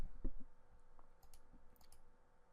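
A computer mouse clicks while folders are set up on a computer, a few faint, separate clicks spread over a couple of seconds against a quiet room hum.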